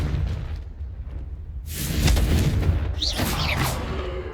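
A Confringo blasting spell goes off in Hogwarts Legacy, a booming burst that swells into a rumbling explosion with a whooshing crackle trailing after it, loud and near.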